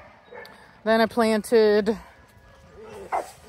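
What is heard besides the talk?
dog barking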